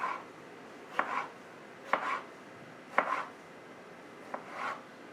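A knife chops through tomatoes on a cutting board in four slow, evenly spaced cuts, each a crisp tap followed by a soft wet slicing sound, close and quiet.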